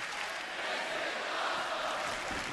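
Jam-packed WWE wrestling crowd at Barclays Center in Brooklyn during a tag team match, a broad, distant roar of cheering voices holding steady without breaks.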